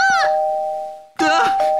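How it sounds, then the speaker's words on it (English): A doorbell chimes in the Minecraft video game, a loud two-tone ding-dong ringing twice in quick succession with a short gap between rings. "It won't stop ringing the doorbell!"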